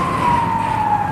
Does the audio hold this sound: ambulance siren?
yes